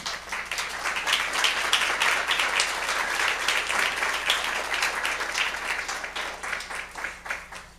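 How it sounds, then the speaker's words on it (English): A church service audience applauds, dense and sustained clapping from many hands that fills the room evenly, heard alone at moderate level for several seconds. "Let's give them another round of applause."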